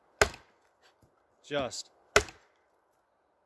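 A Becker BK9 knife chops into wood outdoors: two sharp, loud, separate strikes about two seconds apart, with a brief spoken word between them.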